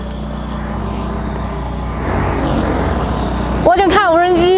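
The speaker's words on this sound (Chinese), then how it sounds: "原来是这上面在用无人机调运东西" A giant drone lifts stones for road building on a remote cliff-ringed mountaintop in Hunan. A steady broadband rumble gives way near the end to a loud, wavering motor whine, with people talking over it.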